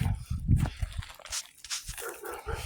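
A dog barks repeatedly from inside a building, heard from the yard during a landscaping job. The sharp barks come in irregular bursts at moderate volume over light outdoor background noise.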